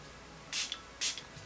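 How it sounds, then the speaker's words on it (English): Two short hissing bursts from a makeup setting spray bottle, close and fairly loud, separated by a brief pause against a quiet background. "And I'm going to spray it,"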